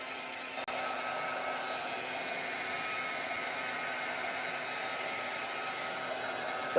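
A hair dryer blowing on handmade collage papers, a steady loud whooshing motor roar that starts with a click and runs unbroken and close, with no voices.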